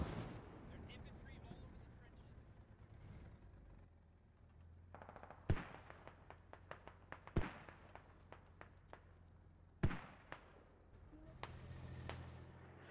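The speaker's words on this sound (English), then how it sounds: "Mortars are just doing some work right now." Mortar rounds exploding in the military shooter Squad, several sharp booming blasts a few seconds apart over a low battlefield rumble, with faint gunfire between them.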